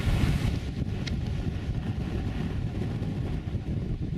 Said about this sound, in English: Wind's picking up along here now